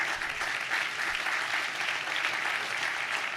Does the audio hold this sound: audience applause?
yes